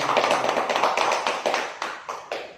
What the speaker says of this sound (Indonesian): Tepuk tangan dulu untuk Bapak dan Ibu.